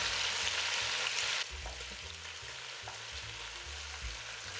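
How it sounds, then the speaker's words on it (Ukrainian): Meat frying in a pan with carrots, onion and two garlic cloves, stirred gently, while cabbage is being stewed Italian-style: a steady broadband sizzle, louder for the first second and a half, then continuing more softly with low clattering underneath. "Перемішую акуратно, даю можливість обсмажитися з цибулі і моркві"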